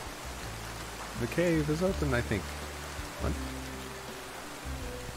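Constant rain hiss in Roblox Lumber Tycoon 2 fills the background, a steady even patter while someone speaks briefly over it.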